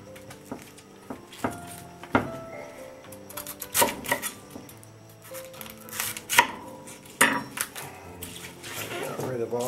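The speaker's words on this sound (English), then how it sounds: "I'm going to cut this cauliflower up." Knife chopping through a head of cauliflower on a cutting board at home, giving irregular sharp cuts and thuds scattered among quieter handling noises, close and moderately loud with no talking.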